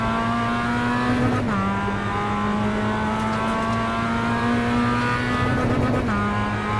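iRacing race car engine held high at a steady buzzing pitch on the rev limiter, with brief dips as gears change, constant and close throughout.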